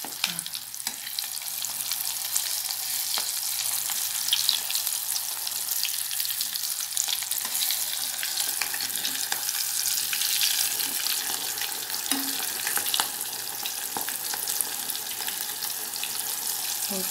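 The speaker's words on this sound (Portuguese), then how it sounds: "vamos fritar ela bem até ficar bem douradinha" Onion frying in hot oil until golden for an onion appetizer, a continuous dense crackling sizzle heard close and alone, steady and unbroken for the whole stretch.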